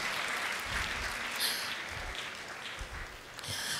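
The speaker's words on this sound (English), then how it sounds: "Let's keep the applause going." Audience applause at a fashion weekend masterclass: a few seconds of steady, fairly close clapping from a crowd with slight swells in intensity.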